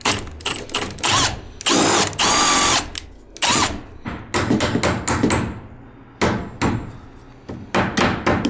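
Power drill whirring in repeated short bursts, boring a hole into wood below an outlet while wiring a garage bathroom, with tapping and handling noises between runs, loud and close.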